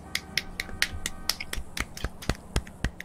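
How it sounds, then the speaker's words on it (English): A few people giving a soft, polite golf clap while playing a golf game online, sparse light slaps in an uneven rhythm, close and thin, with no crowd behind them. "Golf clap."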